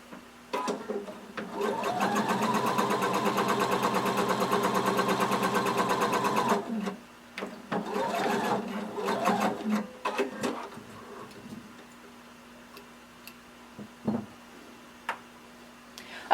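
A sewing machine runs a long steady whirring stretch of stitching on swimsuit fabric, then a few shorter back-stitch bursts follow before it falls quiet.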